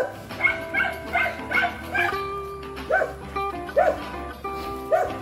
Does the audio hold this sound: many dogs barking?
yes